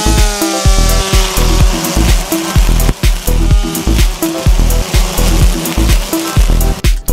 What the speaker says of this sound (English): The Ego trimmer. Squeeze here, squeeze there.